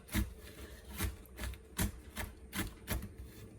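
Pecans being chopped on a board, a quiet series of rhythmic knife strokes, roughly two per second, close up with no voices.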